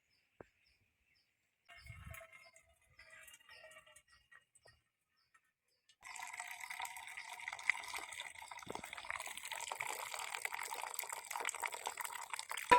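Water pours and splashes steadily for several seconds as it is drained from cooked horse gram, following a few quieter trickles and light clinks at the start.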